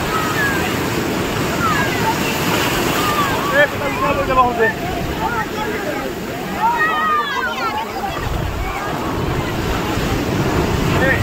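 Sea waves wash onto a beach with a steady roar and gusts of wind against the microphone, while voices chatter over the surf.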